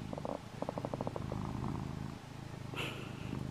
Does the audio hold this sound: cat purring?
yes